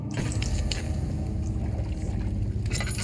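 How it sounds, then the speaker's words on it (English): Water sloshing and pouring in the dark dungeon setting of the horror game Amnesia: The Dark Descent, a steady close liquid wash with faint dripping and bubbling textures, no speech over it. "I hear freaking water."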